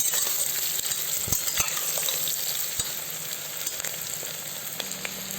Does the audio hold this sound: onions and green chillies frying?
yes